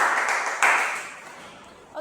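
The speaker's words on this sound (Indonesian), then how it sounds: "Berikan tepuk tangan" A classroom of students claps together in a short, loud burst that fades out over about two seconds.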